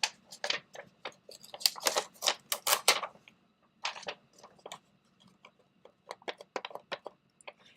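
A handheld adhesive tape runner used on cardstock while making a card, giving rapid bursts of crisp ticking clicks. The clicks come close in irregular runs, separated by brief quiet gaps, and no voices are heard.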